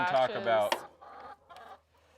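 Chickens at a wheeled self-cleaning coop on a small farm in East Tennessee give a close burst of clucking and squawks, followed by fainter scattered clucks against a low hum.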